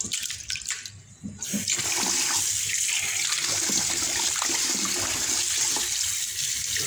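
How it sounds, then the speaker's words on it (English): Rice being washed in a pot with water for Jamaican rice and peas gives a steady, continuous wash of running and sloshing water that starts after a brief pause and carries on evenly, with no talking. "Yes, peeps, rice I wash, you know."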